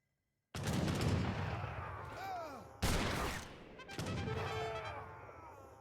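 Bombard artillery fires in an Age of Empires 3 battle: several loud, booming blasts land over a dense wash of gunfire and clashing battle noise, with a few sharp high whistles between them.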